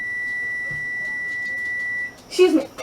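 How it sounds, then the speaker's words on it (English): An oven timer goes off while French macarons bake, sounding one steady high-pitched electronic beep for about two seconds before stopping, followed by a short burst of voice. "now I'm just waiting for the timer to go off"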